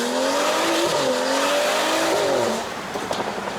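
A BMW 335i F30 engine with Stage 2+ tuning roars loudly, its pitch climbing and shifting through gears, then easing off as the revs settle.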